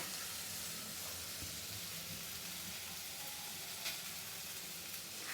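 Garlic sizzles and fries in a pan for a Konkani-style cashew vegetable dish, giving a steady close broadband hiss with a few faint crackles and no talk.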